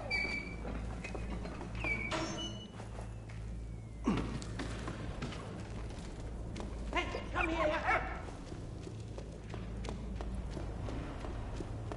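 Dog in the World War I adventure game Valiant Hearts, with a few short barks scattered over a busy game soundscape of footsteps, music and ambient effects, moderately close and not dominant.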